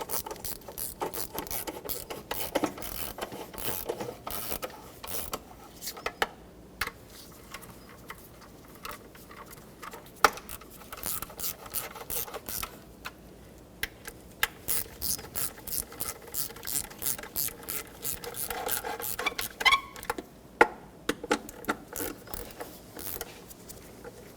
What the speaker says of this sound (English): Now with my 12 millimeter socket and extension, I'm going to start from the center out, and I'm just going to snug them up before I torque them.